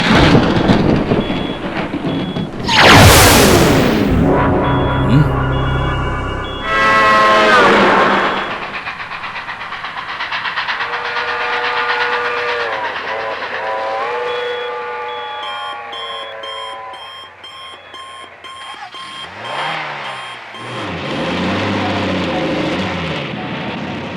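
Cartoon sound effect of a train passing with its horn, a loud rushing roar with blaring tonal horn blasts that rise and bend, dramatic rumbling swells and layered effects continuing throughout.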